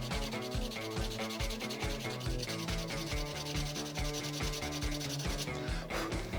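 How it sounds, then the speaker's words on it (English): Sandpaper works over leather repair filler in a Porsche 928 interior, a fast, even back-and-forth rubbing heard close up and fairly loud throughout, with no voices. "let's see what happens when we sand this down"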